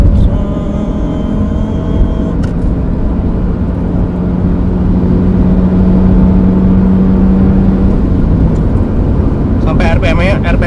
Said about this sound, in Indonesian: kita becek gasnya